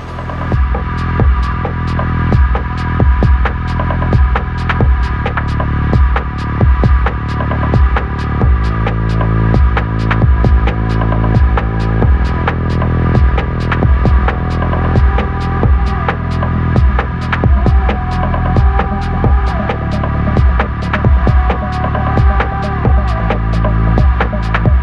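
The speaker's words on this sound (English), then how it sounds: "So this is our weld shop." Steady electrical hum with rhythmic throbbing pulses fills a roller coaster factory weld shop, continuous and fairly loud throughout with no talking.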